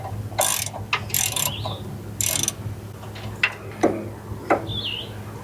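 A ratchet wrench loosens a locking nut while a master cylinder and hydroboost are removed from a P32 Workhorse chassis. Several sharp bursts of fast ratcheting clicks come close by, with birds chirping faintly in the background.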